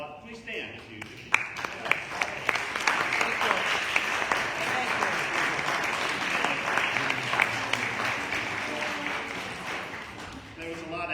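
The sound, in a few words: church congregation applauding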